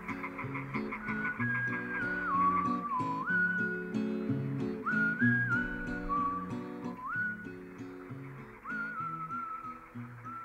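A melodic human whistle rises and falls in short phrases over a busy background of music or layered tones, steady and fairly close.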